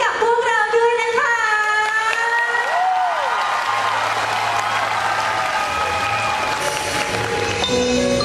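An audience at a Thai school luk thung singing performance applauds steadily throughout, a dense wash of clapping mixed with sustained musical tones and some voices.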